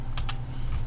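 Two quick clicks from a computer mouse during CAD modeling work, crisp and close, followed by a fainter third click, over a low steady room hum.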